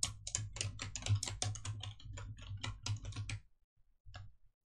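Rapid typing on a computer keyboard, a dense run of close, crisp key clicks for about three and a half seconds, a short pause, then a brief final burst of a few keystrokes.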